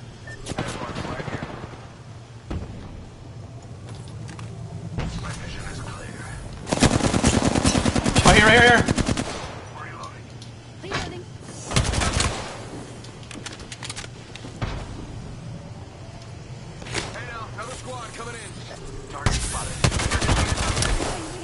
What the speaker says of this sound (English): I got shot from long range.